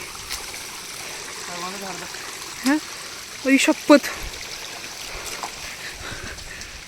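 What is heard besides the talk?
water flowing in a stream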